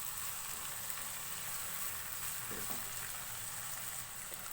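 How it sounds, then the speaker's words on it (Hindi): Onions sizzling lightly in oil over a medium-high flame, a steady broadband frying hiss that runs unbroken and fairly quiet for the whole stretch, with no voices over it. "प्याज को ऑयल में हल्का सा फ्राई करेंगे।"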